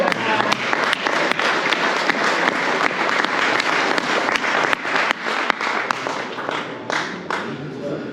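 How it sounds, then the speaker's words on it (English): A hall audience at the X2024 Commodore computer event applauds a talk on Commodore history, giving dense, sustained, loud clapping that continues evenly throughout without speech. "I think that's worth a round of applause."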